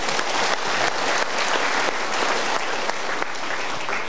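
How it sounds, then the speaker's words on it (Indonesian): Studio audience applauds steadily through a televised motivational talk show, a dense, loud wash of clapping hands that holds for about four seconds with no break. "kita berikan tepukan"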